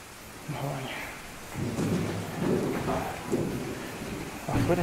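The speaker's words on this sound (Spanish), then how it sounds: "Afuera está lloviendo. Es de noche. Está re lloviendo mal." Heavy rain falls at night in Argentina, a steady wash of rainfall with low rumbling swells rising and falling through the clip, fairly faint overall.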